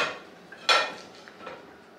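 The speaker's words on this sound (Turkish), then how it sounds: "Şimdi şöyle sebzeleri kaseme alacağım." Chopped vegetables tipped into a bowl while making roasted tomato soup, heard as one sharp clatter followed by softer rustles and a faint second knock, close and quiet.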